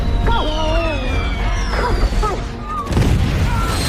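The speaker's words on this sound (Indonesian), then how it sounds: "di saat petasan-petasan meledak" Firecrackers burst in loud cracks and booms during a scene from an Indonesian horror film, mixed with whistling, dogs barking and other commotion, with a dense crackling burst near the end.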